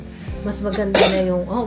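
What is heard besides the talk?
sneeze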